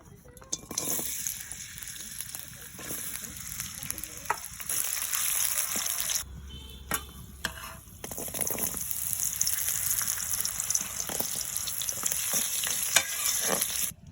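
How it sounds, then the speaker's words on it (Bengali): Vegetables fry in hot oil in a pan for chicken fried rice, giving a steady close sizzle with stirring scrapes that run almost continuously and swell louder at times. "এবার আমি সবজিগুলো ভেজে নেব"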